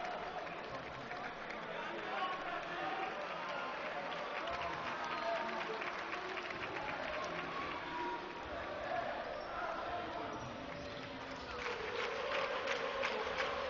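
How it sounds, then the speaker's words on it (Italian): Basketball crowd at a Vigevano–Erba game applauding a player, steady clapping and cheering filling the arena throughout with a swell near the end, under faint commentary-like murmur. "Applausi per Fabio Grognetti"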